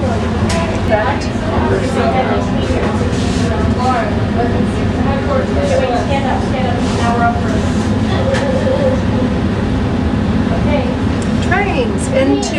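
Rumbling train noise with rattling and screeching metal, continuous throughout, heard from inside a carriage with voices faintly in the background.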